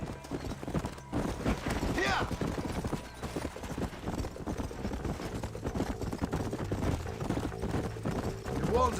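In the Red Dead Redemption video game, a horse gallops with quick, rhythmic clip-clop hooves that run steadily under game music and noise, with a brief whinny and a shouted voice.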